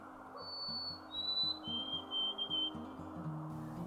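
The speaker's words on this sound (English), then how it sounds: "jays courting and making their squeaky gate calls" Three thin, squeaky rising-and-falling blue jay calls ring out in spring over steady background chatter, like a creaking gate.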